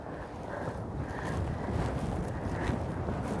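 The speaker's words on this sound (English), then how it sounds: "That wind is quite strong." Strong outdoor wind buffets a microphone clipped to a t-shirt under a hoodie while walking in Eastern Passage, Dartmouth, Canada. It makes a continuous, heavy low rumble with gusty swells, with no talking.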